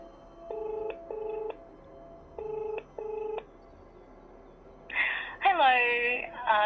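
A phone call begins with four quick pairs of keypad tones, then a warbling ring tone starts up, heard close over a low background hum.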